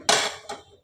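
A pot of Gobindobhog rice payesh comes off the stove with two bright metallic clanks, the first louder and ringing briefly, the second softer, both close by in a quiet kitchen.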